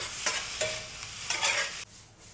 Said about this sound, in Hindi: सारे मटेरियल्स को इस पैन में डालकर फ्राई करो